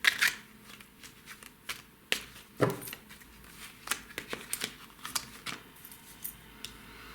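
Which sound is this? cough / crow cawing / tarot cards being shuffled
tarot cards being shuffled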